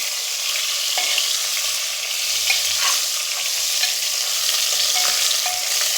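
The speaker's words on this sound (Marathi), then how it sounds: "वांगे कापून द्यायचे भरलेली मस्त असं परतून घ्यायचं" Stuffed eggplants sauté in a pan with a steady, continuous sizzle and crackle throughout, with occasional soft stirring scrapes and no talk.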